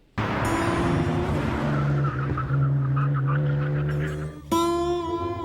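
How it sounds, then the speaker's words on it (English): A TVR sports car with a Speed 6 engine screams around the Top Gear test track, its loud revving engine rising through the gears with a squeal of tyres and a sharp change of pitch near the end. "we're back at the Top Gear test track for this TVR power test from Hammond"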